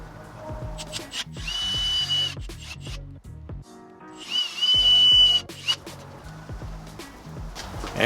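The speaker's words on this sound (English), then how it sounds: "I'm going to start by drilling pilot holes first" Power drill boring pilot holes for bracket screws, two bursts of high whining motor with grinding bites into the material, separated by a short pause and handling clicks, close and alone.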